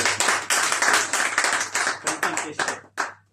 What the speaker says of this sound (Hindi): रोशन सर के लिए जोरदार ताली।